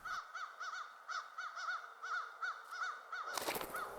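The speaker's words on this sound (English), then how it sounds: "the crows started alarm calling" Crows give repeated harsh alarm caws in a steady series, several calls overlapping at close to moderate range, before a sudden loud broadband rustle or clatter near the end.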